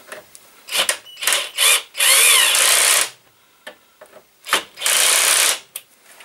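A cordless drill set to drill mode runs in repeated bursts, some short and some sustained for about a second, loud and close with brief quiet gaps and clicks between.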